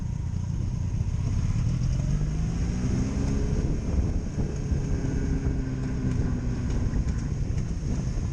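A 2002 Honda Magna VF750C engine runs with a steady low rumble and slowly rising and falling pitch, its clutch still slightly dragging, heard loud and continuous under heavy wind noise with no talking.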